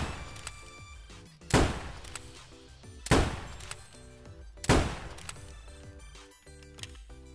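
A newly added weapon in a shooting video game fires single shots, three sharp loud reports at roughly even one-and-a-half-second intervals, each with a short decaying tail over a quiet tonal background.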